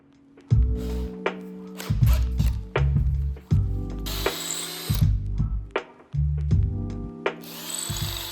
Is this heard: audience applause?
no